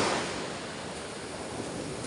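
Sea waves and surf heard from aboard a fishing boat on calm, flat open water, a steady broadband wash of water and wind noise running continuously without distinct breaks, fairly loud and close.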